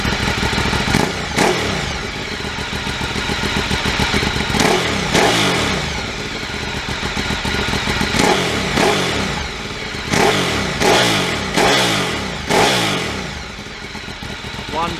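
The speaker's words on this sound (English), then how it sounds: "we'll just give the throttle a blip so you can hear the exhaust." A Ducati 848 Evo V-twin motorcycle with its exhaust barking through repeated sharp throttle blips. Loud and close, the blips come in irregular bursts over a lumpy idle, with a voice talking between them.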